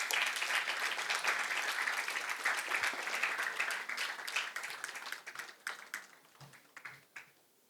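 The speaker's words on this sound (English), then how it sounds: "Let us invite Honorable Justice onto the stage with a big round of applause." An audience applauds to welcome a Justice onto the stage at a judiciary keynote event. Dense clapping starts loud, then thins into scattered individual claps before fading out.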